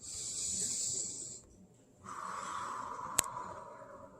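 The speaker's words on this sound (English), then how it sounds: "You can do a deep breath for each one" A slow, deep breath demonstrated for calming: a long hissing inhale, a brief pause, then a softer, steady exhale with one sharp click partway through, close and quiet.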